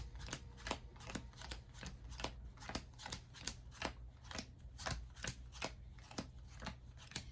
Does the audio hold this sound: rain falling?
no